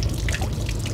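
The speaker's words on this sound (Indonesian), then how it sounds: "kita akan coba icip-icip ya anggur Veles ini, tapi sebelumnya kita akan cuci dulu ya" Veles grapes being washed under water, with a steady close trickle and drip of running water over the fruit throughout and no talking.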